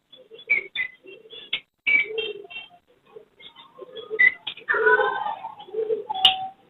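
Pairs of Fischer's lovebirds at a Sunday bird market give sharp, scattered chirps and squeaky calls in short bursts, close by, with other birds calling around them.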